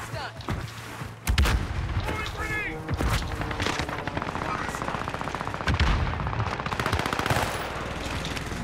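Sustained automatic gunfire in a Warzone battle royale match, rapid bursts and shots blending with booms, loud and continuous throughout, with players talking over it.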